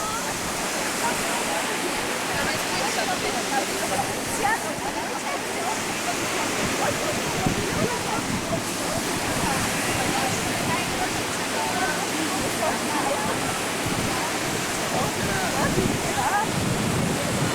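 Steady roar of surf and sea waves breaking on a shore in Ukraine fills the whole stretch, broadband and continuous, with wind noise and faint voices mixed in.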